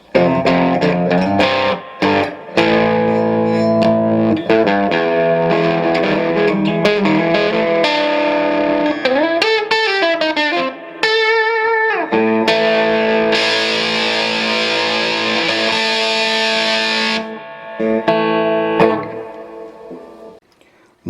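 Electric guitar, a Korean-made Agile budget model, played through a warm vintage crunch distortion: chords and single-note runs ring out loud and continuous, with a few brief pauses and bends, no voices.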